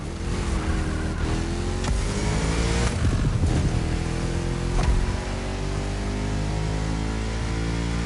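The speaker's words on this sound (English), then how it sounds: "You're driving my #1 car, the star of my collection, the 1969 Mustang Boss 429." A 1969 Mustang Boss 429 in The Crew Motorfest, a loud steady engine roar with rising revs and a few sharp transients, continuous across the clip.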